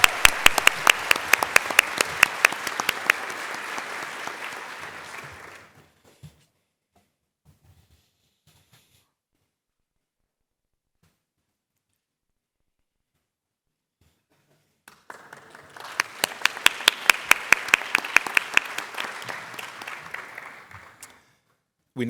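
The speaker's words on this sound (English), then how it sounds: "Big round of applause for Yvonne and Kevin." An audience at a staff service and recognition awards ceremony breaks into loud, dense applause for two honorees. The clapping lasts about five seconds, then near silence follows before a second long burst of clapping and cheering arrives.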